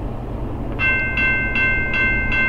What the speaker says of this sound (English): Here is train 35Q, a manifest heading westbound.